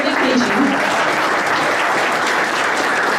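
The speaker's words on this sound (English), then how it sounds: "So let's have an extra round of applause for students who came on their summer vacation" Audience at a school board meeting applauds students in steady, dense clapping that fills the room from start to finish, with no voices standing out.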